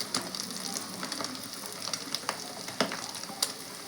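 Chopped onion pieces fry in a pan for street-style egg noodles, a soft sizzle broken by scattered crackles and pops close by, with no voices.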